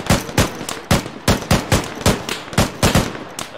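Rapid bursts of gunfire crack out from a trench position in the military video game Arma 3, loud, close shots in an irregular rhythm of about a dozen reports with short gaps between them.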